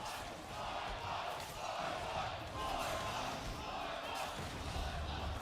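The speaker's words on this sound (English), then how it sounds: "The crowd is loving it. The Voyboy cheers coming in." A live esports crowd at a celebrity ARAM League of Legends match cheers and roars continuously, a dense broad wash of voices that rises and falls without pause.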